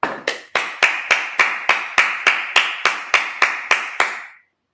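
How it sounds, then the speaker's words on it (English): A dozen sharp hand claps at a Sabbath service, evenly spaced and close, each with a short ringing tail, ending in silence with no talk over them. "Clap it up."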